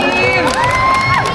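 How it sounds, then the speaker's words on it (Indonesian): A press conference audience cheers and whoops loudly, excited voices and shouts rising together in a short burst of applause-like crowd noise. "Sekali lagi beri tepuk tangan yang meriah."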